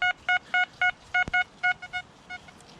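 A metal detector gives a series of short electronic beeps in an irregular rhythm, each a clear mid-pitched tone, with one sharp click in between, on an outdoor path.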